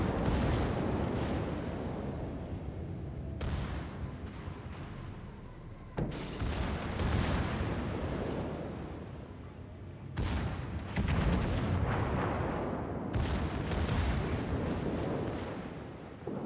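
Warship guns fire broadsides in World of Warships, heavy booming salvos rolling over a continuous rumble of battle, with several sharp blasts standing out over about sixteen seconds.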